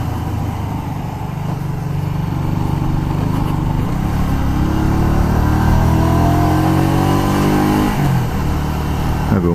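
A Honda Shadow 125 motorcycle engine running while riding, a loud, close, continuous drone whose pitch rises and falls through gear changes and acceleration.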